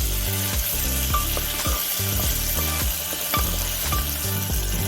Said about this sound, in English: we cook this potato and tomato until it gets softer